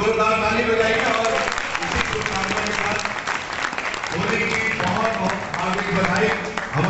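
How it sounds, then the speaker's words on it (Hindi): A large audience applauds after a stage drama, sustained dense clapping throughout while someone speaks loudly over it through a PA. "जोरदार ताली बजाइए"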